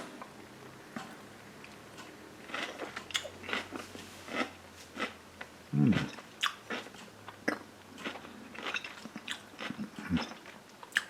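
Close-up crunching of pickled carrot, sweet yellow pepper and cauliflower, a series of crisp bites and chewing with short pauses between them, quiet otherwise.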